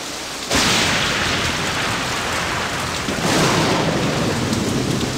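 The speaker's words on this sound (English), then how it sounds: "Dear Bess, hello from stormy San Francisco." Thunderstorm in a Nancy Drew game set in San Francisco: heavy rain hisses steadily while rolling thunder swells twice, loud and close, with no speech.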